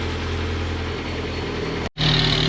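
A Spec Miata engine with a race exhaust idling: a steady, loud rumbling drone that runs unbroken and then cuts out briefly for a moment before resuming, with no voices.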